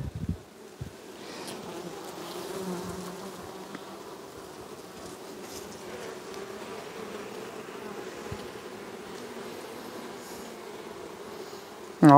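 Honeybee colony humming steadily at an opened hive during queen caging, a continuous buzzing drone holding at even loudness with a brief louder rustle at the very end.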